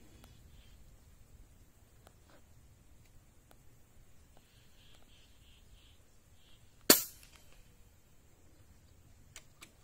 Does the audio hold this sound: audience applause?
no